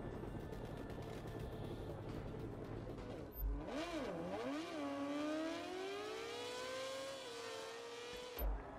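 Racing motorcycle engines in MotoGP 17 at the Mugello circuit in Italy, heard as a steady roar from a pack of bikes, then one engine revving up and down before holding a long rising whine, with a short sharp burst near the end.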